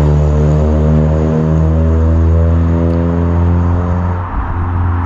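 A loud, deep aftermarket exhaust on a 9th-generation Honda Civic Si rumbles close by with a steady low drone and slight rattle from something loose, holding an even idle-like revving throughout.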